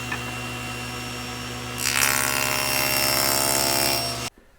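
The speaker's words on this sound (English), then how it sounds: "I literally cut right through that staple and nothing" A SawStop table saw spins steadily, then its blade cuts through a piece of wood containing a staple, making a louder, rougher cutting noise for a couple of seconds before the sound abruptly drops off.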